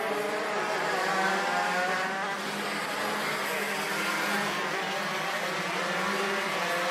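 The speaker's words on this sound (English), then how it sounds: "125 moto shifter and the FZ85 shifter qualifying on track" 125 moto shifter and FZ85 shifter karts qualifying on a racing circuit, a steady distant engine drone with layered buzzing tones that hold a constant level, no voices over it.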